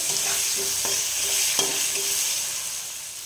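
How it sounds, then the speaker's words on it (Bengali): Potato pieces frying with turmeric and salt in a pan, a steady close sizzle with a few sharp scrapes and knocks of stirring. "একটু ভেজে নেবো 1 মিনিট 2 মিনিট মতো"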